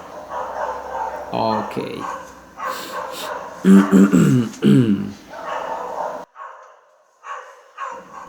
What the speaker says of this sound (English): Those little dogs around here who don't let me record.